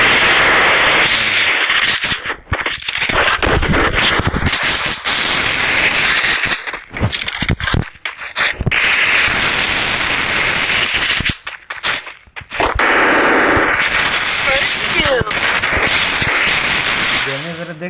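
Shotgun blasts ring out during video game play, loud sharp bangs layered with dense game noise and effects, with short breaks between bursts.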